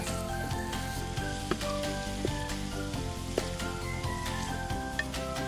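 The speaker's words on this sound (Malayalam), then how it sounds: "എന്നിട്ട് എല്ലാം കൂടി ഒന്ന് നമുക്കൊന്ന് വഴറ്റിയെടുക്കണം" Onions and curry leaves sautéing in a pan for Kerala-style kappa biryani, a steady close sizzle with scattered pops and the scrape of stirring throughout.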